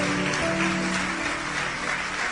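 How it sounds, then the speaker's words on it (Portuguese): Applause from a church congregation rolls on continuously and loudly, with a sustained tonal hum, likely music or held voices, running beneath the clapping. "Vamos aplaudir mais o Senhor, igreja."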